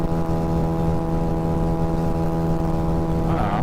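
A tuned Honda Ruckus scooter engine runs flat out at top speed, about 44 mph at 9,800 RPM, giving a steady, sustained high-revving drone close to the microphone, with no speech.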